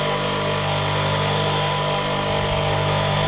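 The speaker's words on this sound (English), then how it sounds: "I'm just going to finish this off, but you get the idea of grinding the back" A grinder works the back of a wood chisel with a loud, continuous, steady whirring and grinding drone, close and unbroken, with no speech.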